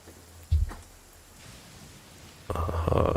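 Night rain falls in Genshin Impact, a soft steady patter under a thump near the start, then swelling into louder, denser rain and rumble toward the end.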